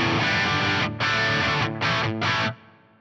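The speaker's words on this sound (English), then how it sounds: "I'm using the Atomica High model. This Les Paul has P90s in it on the bridge pickup." Les Paul electric guitar on its P90 bridge pickup through an Axe FX Atomica High amp model with plate reverb, playing four distorted sustained chords separated by brief gaps, the last one decaying away.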